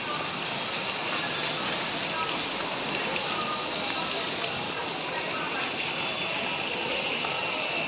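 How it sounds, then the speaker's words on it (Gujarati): Heavy monsoon rain in Surat, a dense, even hiss of downpour that stays steady and loud without a break. "જોરિયો વરસાદ ચાલુ"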